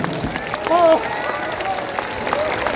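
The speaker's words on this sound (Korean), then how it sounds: "감사의 박수 부탁드리겠습니다" An audience at a political rally applauds in thanks for a guest speaker, a steady patter of many hands under a crowd's voices and a speaker talking over it.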